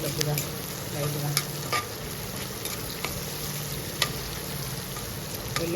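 Onions and green chillies frying in a pan for potato curry, a continuous close sizzle with occasional stirring scrapes and no talking.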